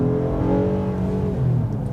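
A 2024 Honda Ridgeline Black Edition pickup accelerates on the road, its engine note rising in a steady, loud drone with low rumble and clear harmonics, heard from inside the cab with no talking.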